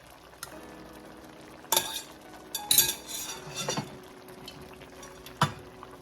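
Cajun shrimp scampi being lifted out of a pot of sauce with metal utensils: scattered clinks and scrapes against the pot over a faint background, with a few sharper knocks.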